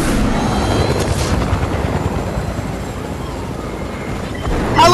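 Helicopter in Fortnite, a steady close rotor drone with faint whine and rumble running throughout, rising slightly louder at the end.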